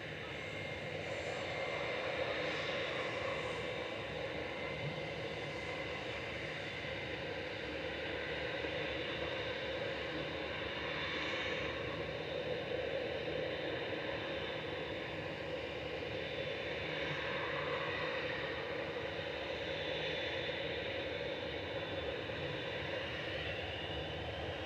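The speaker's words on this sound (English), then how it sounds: "A321 Classic heading back to Arman" An Airbus A321 jet at Manchester Airport gives a steady, broad engine roar that holds at moderate distance for the whole stretch, with no pauses and no talking over it.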